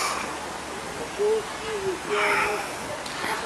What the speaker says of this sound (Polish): są te gołębie tutaj